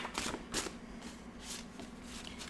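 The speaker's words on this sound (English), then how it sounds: "I'll give it one more shuffle" Tarot cards being shuffled by hand: close, crisp riffling bursts that flutter in quick irregular clusters over a low steady hum, with no voices.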